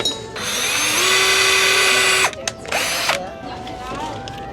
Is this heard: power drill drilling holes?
yes